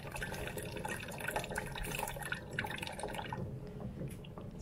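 Water is drained off simmering frozen tomatoes in a pot, giving a soft continuous trickle and dripping with bubbling underneath, fairly quiet throughout.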